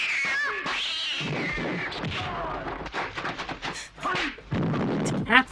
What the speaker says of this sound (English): But I love it when they play the cat voice.